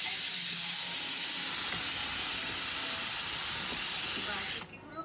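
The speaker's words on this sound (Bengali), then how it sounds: "শুটকিগুলোকেও মশলার সাথে একটু খুব ভালো করে মেখে ভেজে নিতে হবে।" Dried fish (shutki) fry with spices in a hot wok, giving a steady loud sizzling hiss that holds for several seconds, then cuts away sharply near the end.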